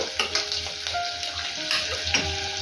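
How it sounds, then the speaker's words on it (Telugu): Onions frying in oil for a fenugreek dal tempering, a steady close sizzle with crackling pops and a few stirring scrapes, no voices. "ఉల్లిపాయలు మరీ ఎర్రగా ఫ్రై అవ్వాల్సిన అవసరం లేదండి ఇలా మీడియంగా ఫ్రై అయితే సరిపోతుంది"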